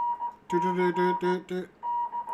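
A steady ham radio tone is broken by a burst of several short, evenly spaced Morse code CW beeps, then the tone carries on; no speech.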